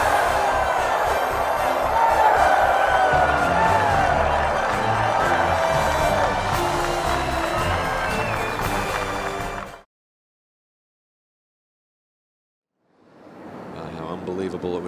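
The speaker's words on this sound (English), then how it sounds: "Crowd certainly appreciating what Rory McIlroy is pulling off this week." Golf gallery at the final round of the 2011 U.S. Open at Congressional cheers and applauds Rory McIlroy, a loud, sustained roar and clapping for about ten seconds, then a sudden silence before the crowd noise swells back in.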